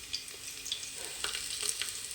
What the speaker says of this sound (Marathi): आता मिरच्या टाकून घेऊया आपण.